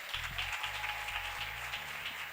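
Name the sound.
congregation applauding in church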